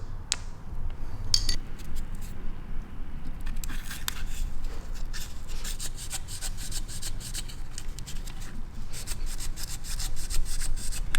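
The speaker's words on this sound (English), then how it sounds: "I'm just gonna use like a 1500 grit sandpaper, wrap it around my 10mm socket, and just sand that bore inside to get rid of any burrs" Fine 1500-grit sandpaper wrapped around a 10mm socket rubs inside a bore of a BMW ZF five-speed manual transmission part, giving a steady, close, continuous rasping scrape with small irregular strokes throughout, no voices.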